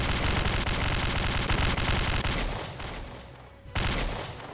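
An AKS rifle in Slendytubbies 3 fires long, loud sustained bursts, a dense rapid rattle that breaks off briefly and resumes near the end.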